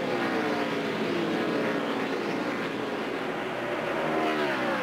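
NASCAR stock cars racing in the 2002 All-American Heroes 400, a steady roaring drone of engines held at constant loudness with shifting pitch as the pack runs, no talk over it.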